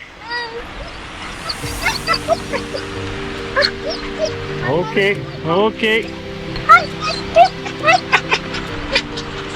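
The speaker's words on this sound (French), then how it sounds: "Deux chiens différents." Two different dogs bark, yip and whimper close by along a rural road in the Témiscamingue region of Quebec, in irregular bursts, while a cyclist talks to them.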